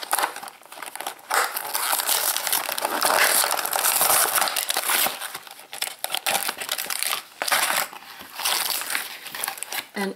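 Loud, continuous crinkling and crackling of plastic Shopkins toy packaging being torn and handled up close, with bursts of rustling and no talking.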